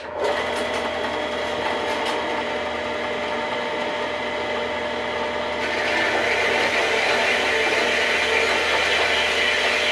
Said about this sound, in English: With my bandsaw here, hopefully we're going to cut 2 of these pins in half and make 4 pins.